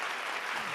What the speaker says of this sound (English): That's a very creepy applause. It's a transposed applause.